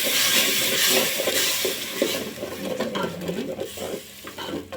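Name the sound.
tomato paste stirred and frying in oil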